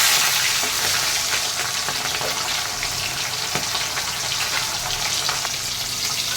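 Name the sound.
pomfret fish frying after being flipped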